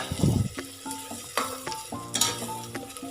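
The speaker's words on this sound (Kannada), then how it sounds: "ಈಗ 2 ನಿಮಿಷಗಳ ಕಾಲ ಕ್ಯಾರೆಟ್ನ ಸಹ ಈ ಎಣ್ಣೆ ಜೊತೆ ಫ್ರೈ ಮಾಡ್ಕೊಳ್ಳೋಣ" Carrots frying in oil in a pan for wedding-style pea uppittu, with stirring and clinks of a spoon over a steady sizzle, several distinct scrapes recurring through the short stretch, close and moderately loud, no talk.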